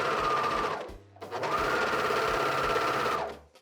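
Sewing machine hemming denim jeans along a rolled hem, running in two steady whirring bursts separated by a brief pause near the start, close and loud with no talk.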